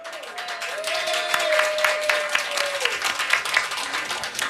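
A live audience at a radio show broadcast from the Whitehouse breaks into applause, a dense, steady patter of clapping that holds for several seconds, with faint talk underneath.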